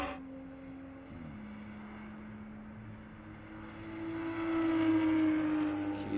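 Race cars on track at a TC America race in Virginia, including a bright orange Murillo Racing BMW, a distant engine drone whose pitch shifts and then rises steadily as the cars approach and grow louder.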